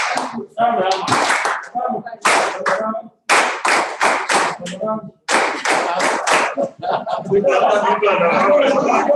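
Workshop audience in Lagos clapping in loud, irregular bursts with brief gaps, while voices talk over and between the claps.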